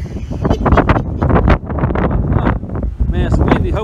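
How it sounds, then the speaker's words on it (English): Heavy gusts buffet the microphone in loud, irregular bursts, rumbling and crackling throughout. "Man, it's windy. Hopefully, the wind's not ruining my video here."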